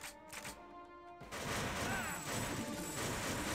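Enemy gunfire in the PS2 video game TimeSplitters, set in a 1935 tomb level, breaking out after a quieter opening and continuing as a loud, dense clatter of shots over game ambience.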